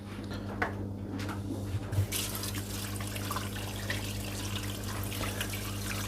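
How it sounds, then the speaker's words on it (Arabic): Kitchen tap water running steadily over chicken wings being washed in a sink, a continuous close splashing stream with a few clinks and handling bumps early on, no voices. "نغسل الدجاجات"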